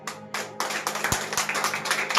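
A congregation at a Friday fasting prayer meeting claps in a steady rhythm, a run of close, evenly spaced hand claps with room reverberation and no voices.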